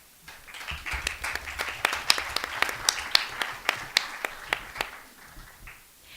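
A short burst of audience applause at an academic poetry colloquium, steady rhythmic clapping from a small group that swells and then tapers off.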